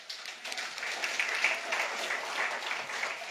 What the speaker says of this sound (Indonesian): Tepuk tangan untuk saudara.